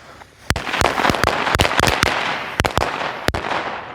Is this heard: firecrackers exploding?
yes